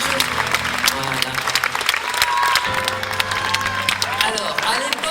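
Concert audience at Le Liberté in Rennes applauds a keyboard player during a show, steady dense clapping filling the room with crowd noise and music-like tones beneath, continuous throughout.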